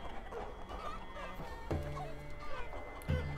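Fowl clucks and gobble-like calls from a chicken unit in the battle game Totally Accurate Battle Simulator, a few short bursts over a busy battle din, moderately close.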